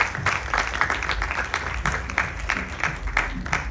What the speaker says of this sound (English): Another round of applause for Assemblywoman.